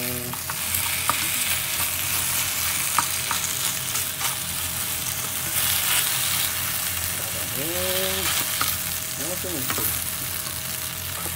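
Sliced Yamato yam steaks frying in a pan give a steady, close sizzle with crackling pops, and a voice speaks briefly partway through over a low background hum.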